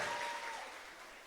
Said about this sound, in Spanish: Démosle un aplauso a Julie Cuadrado